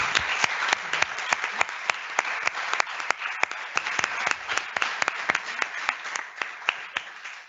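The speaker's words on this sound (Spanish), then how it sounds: "Un aplauso a todos." Audience applause after a business conference talk, steady and fairly close, with individual claps standing out sharply against the dense wash of clapping throughout.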